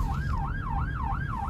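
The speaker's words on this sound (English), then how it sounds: "A Belfast ambulance rushes to a road traffic accident." A Belfast ambulance racing to a road traffic accident, its siren wailing in a steady rising and falling cycle over the hum of traffic, close and prominent.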